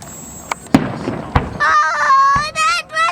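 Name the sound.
fireworks exploding on Canada Day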